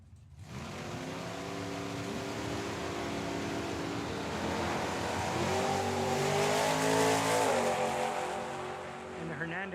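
A Mustang and a Nova launch side by side down a dragstrip, their engines rising to a loud, sustained roar that peaks and starts to fade toward the end, heard at a distance.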